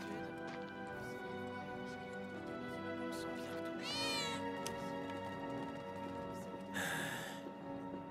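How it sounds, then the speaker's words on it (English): A cat meows indoors in a room while Final Fantasy VII Remake Intergrade plays, with a drawn-out wavering meow midway and a second sharp meow near the end over steady game music and hum. "I heard the cat too. Where's the cat?"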